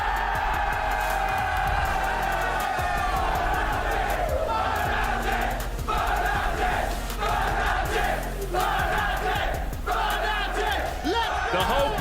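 A dense crowd of Fnatic supporters at the London HQ watch party for League of Legends Worlds 2022 roars continuously, a sustained wall of voices with scattered shouts rising throughout.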